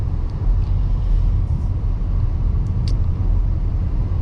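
A 2024 Cadillac XT4 compact SUV being driven, heard from inside as a steady low road and engine rumble with continuous tire noise, fairly loud and unbroken.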